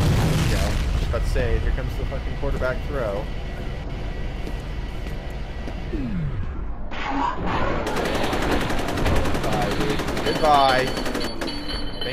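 Grenade blast and rattling gunfire in the shooter game F.E.A.R., a dense, loud wash of shots and booms running throughout, with a sharp burst near the end and voices talking over it.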